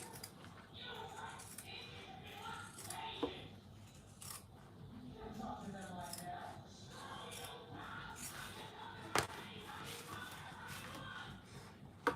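Scissors cut through tote bag interfacing fabric of Ankara print, a soft continuous crisp snipping and rasping with occasional sharper clicks, fairly close, under faint background sound.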